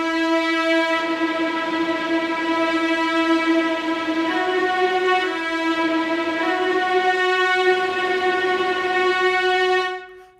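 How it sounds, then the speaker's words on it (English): Sampled orchestral strings from the Palette Symphonic Sketchpad library sustain a bright held chord with shimmering tremolo and vibrato, stepping to a new pitch a couple of times before fading out at the end, heard alone. "I want you to hear what this tremolo offers and the vibrato"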